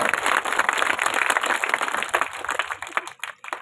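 An audience at a statue unveiling ceremony applauds to welcome Prem Singh, with a dense burst of clapping that thins out and fades toward the end.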